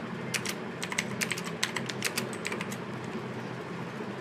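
Typing a WordPress theme name on a computer keyboard: close, crisp key taps in quick irregular bursts for a few seconds, then stopping, with no voice over them.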